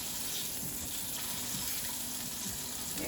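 A lamb chop sears in a hot skillet with a steady, dense sizzle and crackle, close and even throughout, no voices over it.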